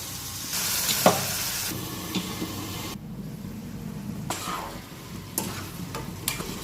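Chicken pieces sizzle in hot oil with masala spices as a utensil stirs and scrapes the pan in several firm strokes, the frying hiss continuous and close.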